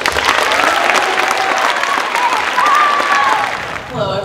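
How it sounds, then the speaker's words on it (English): Audience at a high school charity concert applauds a sophomore flutist, loud sustained clapping and cheering with a whistle, tapering briefly before a voice begins speaking at the end. "So give a huge round of applause for our sophomore flutist, Adele Shirky."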